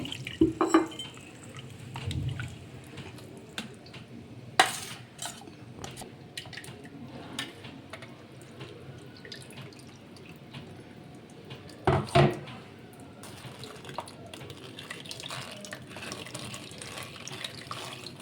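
Water runs and splashes into a blender jar as spice paste for shahi paneer is rinsed out, a soft, steady trickle broken by a few sharper knocks and clatters.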